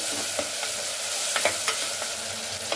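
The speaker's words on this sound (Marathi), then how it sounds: "आणि टोमॅटो पण टाकून देऊया। मस्त आपल्याला 2 मिनिटं सुगंध येईपर्यंत परतवायचं आहे।" Tomatoes and chili sautéed in an oily pan give a steady close sizzle, with soft scrapes of the spoon or spatula coming every second or so.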